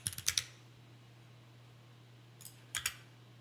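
Typing on a computer keyboard, a quick burst of several close key clicks, then quiet, then a second short cluster of clicks, over a low electrical hum.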